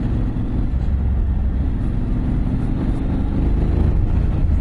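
A Honda X-ADV motorcycle with dual-clutch automatic gearbox accelerates, its engine a loud continuous low drone with steady rumble close by.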